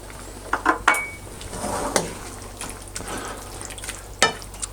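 Beef bouillon is being stirred into chili in a pot. A spoon clatters and scrapes against the pot in several sharp knocks over a soft simmering hiss, with no voices.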